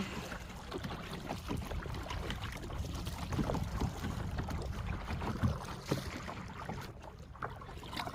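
Kayak paddles dip and splash in the water of Halong Bay, Vietnam, with soft irregular strokes and light wind rumble, faint and continuous throughout.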